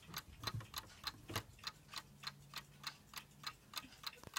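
A mint-condition 1955 wind-up alarm clock ticks steadily with its mechanism exposed, giving a close, crisp, evenly spaced tick-tock of about four beats per second, with a faint low hum underneath.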